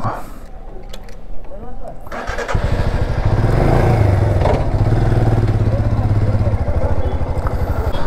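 A motorcycle idles and pulls away, its engine thumping in a steady low rhythm that swells as it rides off on a ride in Kashmir; close and loud, with a voice talking underneath.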